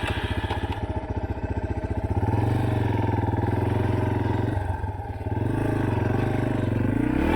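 A vehicle labors in third gear over a potholed rural road in Tahuya, with a loud, close engine rumble, rapid rhythmic pulsing and rattling clatter throughout.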